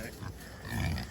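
Pigs on a small family farm give low grunts, a brief burst of rough snorting close by, with faint outdoor farmyard background and no talking.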